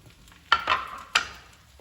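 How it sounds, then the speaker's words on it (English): Baby spinach and chopped, deboned trout tossed gently through a hot pan with fettuccine, giving two or three soft scraping, stirring swishes with a faint sizzle between them, close and alone without talk. "And just toss that through gently"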